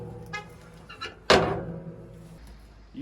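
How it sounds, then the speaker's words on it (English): A door is shut during home laundry detergent making, a single sharp thunk that rings out and decays over a steady low hum, with a few faint bumps before it. "I'm going to shut this door because that smoke's coming up in y'all's eyes"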